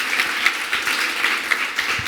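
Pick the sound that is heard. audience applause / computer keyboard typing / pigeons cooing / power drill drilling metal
audience applause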